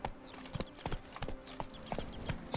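Roach, the horse in The Witcher 3: Wild Hunt (Blood and Wine DLC), gallops with rapid, rhythmic hoof clip-clops, several quick beats per second, heard quietly and steadily throughout.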